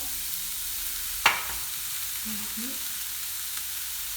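White cabbage fries in a pan with a steady hiss and sizzle, interrupted by a single sharp utensil clink early on.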